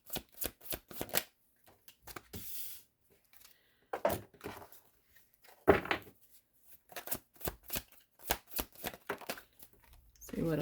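A deck of cards is shuffled in short bursts of riffling and flicking, with quiet gaps between rounds and a voice talking between them.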